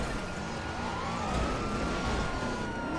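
A wailing ambulance siren in a video game rises and falls in long sweeps, moderately distant under engine rumble and background game noise, with no talking.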